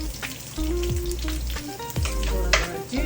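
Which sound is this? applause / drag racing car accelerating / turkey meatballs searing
turkey meatballs searing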